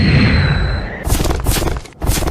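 An explosion in a Naruto Shippuden anime scene booms loud and close, with rumbling blasts and crackling bursts over a few seconds.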